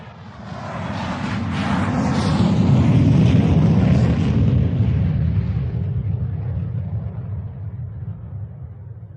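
An airplane taking off, rendered as an audio drama sound effect: a deep, loud engine roar that swells over several seconds, holds, then slowly fades as the plane climbs away.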